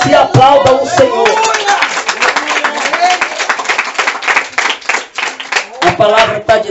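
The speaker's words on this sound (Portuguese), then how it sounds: "aplaudam o Senhor" A Catholic church congregation claps loudly and continuously. Voices call out over the applause, which thins into scattered claps before swelling again near the end.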